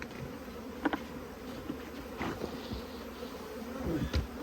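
Low, steady buzzing of honeybees at an open hive fills the background, with a few brief clicks and knocks rising above the continuous drone.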